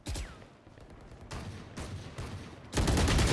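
Gunfire from the Valorant video game, several close, sharp shots spread across the moment, ending in a loud sustained burst.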